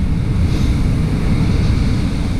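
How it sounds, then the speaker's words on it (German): Ocean waves wash onto a shore in a steady, loud, low roar of surf, mixed with gusty wind buffeting the microphone, with no voices. "so lange könnt ihr die Wellen anschauen"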